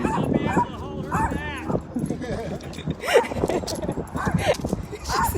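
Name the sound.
dog barking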